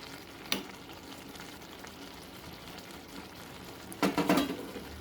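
Fried onions go into a pot of chicken yakhni pulao and get stirred, a soft low background with a brief clatter early on and a louder scraping, sizzling burst near the end.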